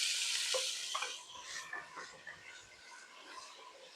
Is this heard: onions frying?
yes